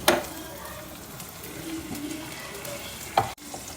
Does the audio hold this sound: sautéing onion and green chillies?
yes